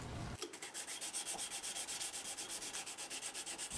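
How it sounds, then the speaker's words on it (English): Steady back-and-forth scraping of sandpaper rubbed by hand along a small steel spindle gouge for woodturning, a fast even rhythm of close, quiet strokes running throughout with no talking. "I just use sandpaper and liberal applications of elbow grease"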